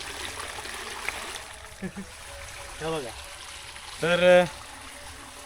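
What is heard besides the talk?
water flowing into garden plot for irrigation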